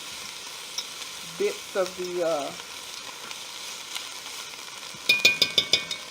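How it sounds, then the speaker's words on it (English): Chopped onion sautés in a pan for Italian meatball soup, giving a steady soft sizzle throughout. It is joined by a few scraping stirs and a quick run of light clinks near the end, with a brief spoken fragment. "the onion, I'm going to let it saute down"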